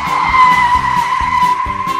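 Sustained, loud tire screech from a skidding car, a steady high squeal over engine rumble with rhythmic low thumps, running continuously throughout.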